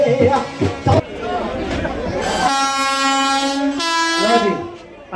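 A Vande Bharat train pulls into Phagwara station with a long, sustained horn blast over a crowd of chattering, cheering voices nearby.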